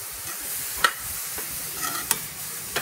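Carrot halwa being stirred and roasted on high flame in a pan, a soft steady sizzle broken by a few sharp scrapes and clinks of the spoon, close and fairly quiet.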